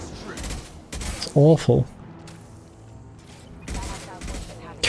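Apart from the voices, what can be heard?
shotgun fire in the video game Mass Effect 2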